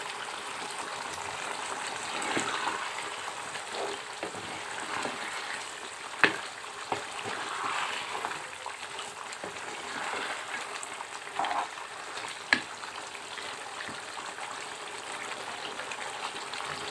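Desi chicken simmering in a pan, stirred with occasional scrapes and knocks against the metal over a steady wet sizzle and bubbling, close and continuous with no talk.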